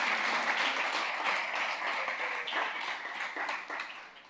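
A church congregation breaks into sustained applause, a dense wash of clapping that holds steady for several seconds before easing off, with no voice over it.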